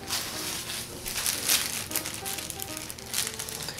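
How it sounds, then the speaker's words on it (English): A plastic bag crinkles and rustles close up in irregular bursts as it is handled and folded, with no talking. "Then get a plastic bag to put it in."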